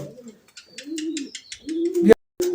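A pigeon coos close by, several soft low rolling coos with faint chirpy tones between them, a brief pause near the end before the cooing resumes.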